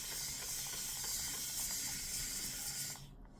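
A razor scrapes across lathered stubble on a third shaving pass, producing close, soft rasping strokes in a steady rhythm that stop abruptly near the end.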